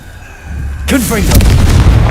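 A Confringo fire spell bursts in Hogwarts Legacy, a sudden loud blast that cuts in after a quiet stretch and rolls on with a crackling, rumbling tail while a voice speaks over it.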